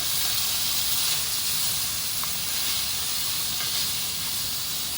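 Carrot and garlic sizzling in a pan while being stirred for a beef, mushroom and Guinness pie, a steady loud close hiss that continues without a break.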